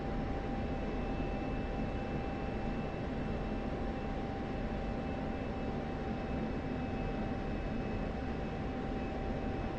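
An F-16C jet engine in the DCS flight simulator sustains a steady, even roar with a faint high whine, continuous and unchanging throughout, with no talking.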